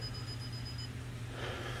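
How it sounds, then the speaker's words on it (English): An N scale model train throttle emits a thin, steady high electronic beep tone before going to sleep, faint against a low hum, stopping partway through. "That beeping, it's my throttle's gonna go to sleep."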